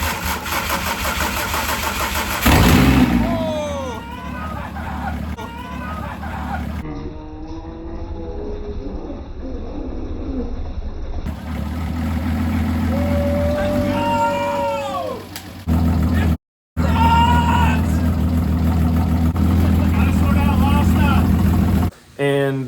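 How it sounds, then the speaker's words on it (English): A Volkswagen VR6 engine swapped into a MK6 starts and runs with a steady mid-pitched hum, punctuated by revs rising and falling, while a voice talks over it in places. "We got the engine running."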